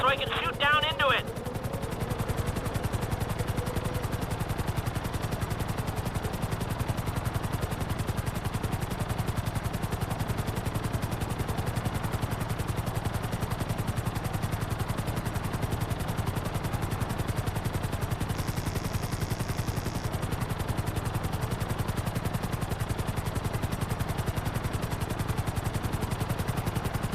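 Helicopter in GTA V holding a hover, a steady rotor drone with a constant low thrum for the whole stretch, even and unbroken, a short electronic beep near the start.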